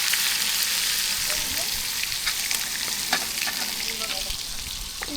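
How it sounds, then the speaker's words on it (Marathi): Pieces of mixed fish frying in oil during outdoor island cooking, a steady close sizzle with scattered sharp pops and crackles running the whole time, no talking. "आता शेवटचे पीस होते ते सुद्धा फ्राय करून झालेले आहे"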